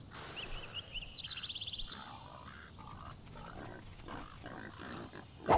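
Pigs grunting in the Black & White god game, a quick run of short rhythmic grunts near the start followed by softer animal sounds over a quiet ambient background.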